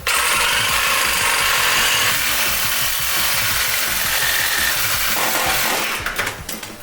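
Loud, continuous grinding whine of a power tool cutting through an old, broken, welded exhaust pipe on a high-mileage Chevy pickup, running steadily for several seconds before tapering off near the end.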